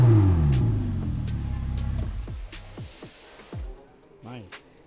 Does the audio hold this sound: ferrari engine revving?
yes